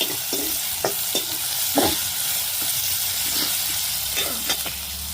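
Onions sauté with salt in a pan, giving a steady, close sizzle with scraping stirs at irregular intervals. No one talks.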